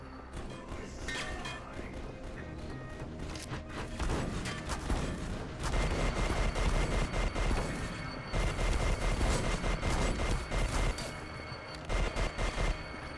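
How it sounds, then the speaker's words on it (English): Sustained bursts of rapid minigun fire sound steadily through the E.Y.E Divine Cybermancy cyborg shooter, dense and loud, with brief pauses and faint voices underneath. "All I'm doing is just literally just going around with a minigun"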